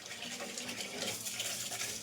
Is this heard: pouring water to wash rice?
yes